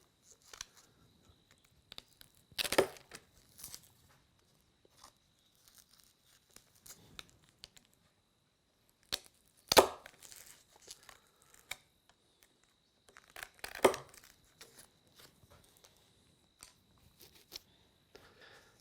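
Blade snipping through the quills of wild turkey feathers being trimmed to length, a few sharp close cuts and crinkling rustles separated by long quiet gaps.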